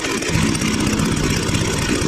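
A weed wacker from a combo trimmer kit runs steadily at idle without the choke, a continuous buzzing small-engine drone at close range with no talk.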